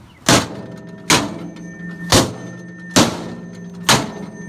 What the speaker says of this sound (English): By banging on the door like that, what we're also doing is softening the door